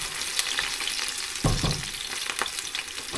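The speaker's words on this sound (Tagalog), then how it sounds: "Manglagsik ang oil" Hot oil spits and sizzles in a pan while pork binagoongan fries with onions, a steady dense crackle with a brief louder burst of sputtering midway, close and with no talk.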